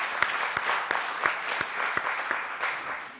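A church congregation claps together in a steady, dense rhythm, with many hands filling a large room and a few sharper individual claps standing out through the applause.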